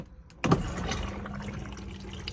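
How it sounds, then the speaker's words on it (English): Toilet flush in an Ace Airstream 630p caravan: after a brief quiet start, a pump kicks in abruptly and runs steadily, whirring with a watery rush of flush fluid circulating, close and moderately loud. "So that pumps around the flush fluid"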